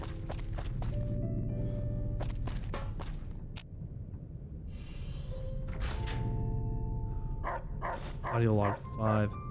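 Dogmeat the dog from the game Fallout New Vegas barks several sharp times among game sounds, with a voice talking over much of it and a few yips near the end.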